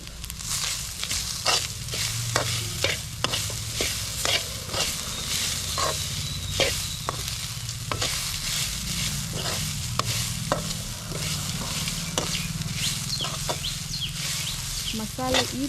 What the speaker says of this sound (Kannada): ಮಸಾಲೆ ಈ ಥರ ಫ್ರೈ ಆಗಬೇಕು